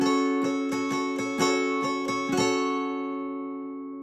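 A guitar chord on the bottom four strings for a song is fingerpicked as a quick run of plucked notes over about two and a half seconds, then rings out and fades, with no voices.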